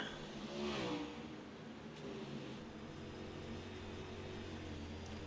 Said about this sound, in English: how loud these car engines can be when we get close up